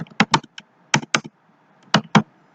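Keys clacking as code is typed on a computer keyboard, loud and close, in short bursts of two or three strokes separated by brief pauses.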